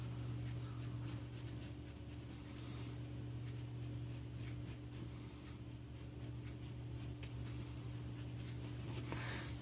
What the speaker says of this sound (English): so let's just draw kind of like an outline of it here